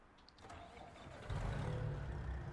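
A diesel truck engine in American Truck Simulator cranks and catches from outside the cab, a low rumble swelling to a steady idle after about a second.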